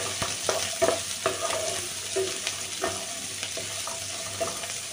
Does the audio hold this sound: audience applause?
no